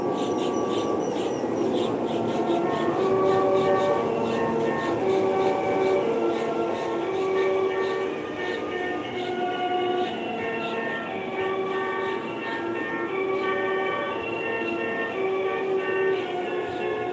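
Original sound box of a vintage inflatable toy train playing electronic train sounds: a steady looping chug with repeated whistle-like tones, continuous and moderately loud, with no clear talking over it.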